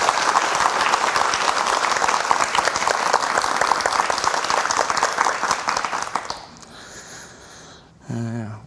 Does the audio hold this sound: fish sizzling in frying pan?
no